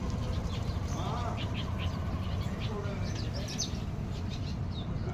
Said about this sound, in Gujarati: એ બધી ચકલીઓ ભાગે કેવી ઉડે મસ્ત.